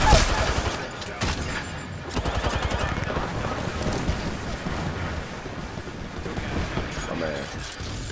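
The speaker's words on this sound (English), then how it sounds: "Is this somebody up top shooting at us?" Dense, continuous video-game gunfire, with rapid overlapping shots and booms rolling on steadily under excited voices talking throughout.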